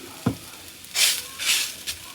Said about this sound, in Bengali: তো বন্ধুরা এখন পরোটাগুলো ভাজা করে নিচ্ছি